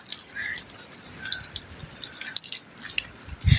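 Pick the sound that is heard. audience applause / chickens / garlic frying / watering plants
watering plants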